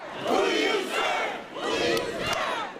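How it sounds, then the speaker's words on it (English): Protest crowd in Los Angeles chanting against ICE, many voices rising and falling in two loud rhythmic waves, close and sustained. "The crowd calling for an end to ICE."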